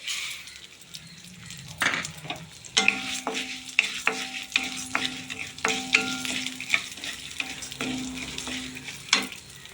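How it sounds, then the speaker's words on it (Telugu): Mustard seeds, tempering spices and moong dal fry in hot oil for khichdi, a steady close sizzle broken by repeated scraping stirs and light clinks of a spoon against the pan. "ఆవాలు అలాగే ఈ పోపు దినుసులు వేసేద్దాం వీటితో పాటు పెసరపప్పు కూడా వేసేద్దాం"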